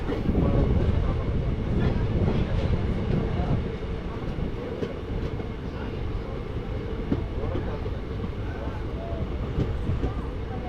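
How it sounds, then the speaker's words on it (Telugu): Durgu Express train running between Simhachalam and Kothavalasa, a continuous low rumble and rattle of carriages on the rails heard from inside, fairly steady and moderately loud. "ట్రైన్."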